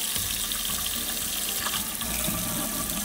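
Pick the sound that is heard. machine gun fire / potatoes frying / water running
water running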